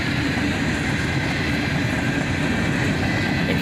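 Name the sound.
freight train with hopper cars passing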